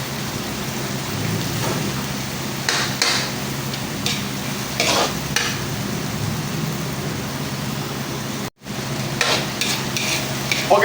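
Tomatoes sautéing in a pan for binagoongan with boneless milkfish, a steady close frying sizzle with stirring scrapes and clatters, no talk.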